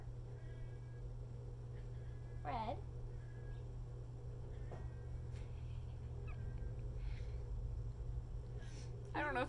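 A cat gives a few low, drawn-out meows, spaced several seconds apart over a constant low hum, fairly faint and somewhat distant.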